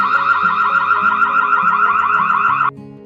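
Noorio T110/B210 security camera siren blaring loud and steady, a rapid warbling electronic alarm that holds for under three seconds and then cuts off abruptly.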